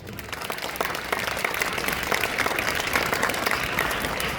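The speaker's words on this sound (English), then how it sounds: "A round of applause to Abdul Kalam," Sustained audience applause at a school Independence Day event, dense steady clapping from a large crowd that holds at a loud level throughout without a break.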